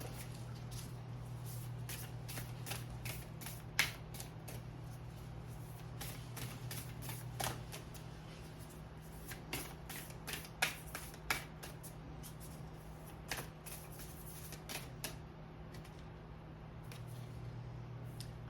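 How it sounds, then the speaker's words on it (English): Oracle cards being shuffled by hand, a steady papery riffling with scattered sharper snaps and flicks, close and fairly quiet over a low steady hum, with no talking. "Let's shuffle and see what we get here"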